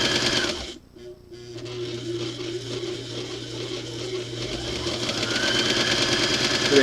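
A sewing machine runs steadily after being repaired from a non-working state, a continuous motor hum with mechanical clatter after a brief pause near the start, fairly close and loud, with no talking.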